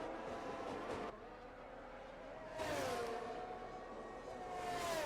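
Racing car engines in a racing video game whine and rise in pitch as they rev, heard somewhat distant with the tone shifting through gear changes.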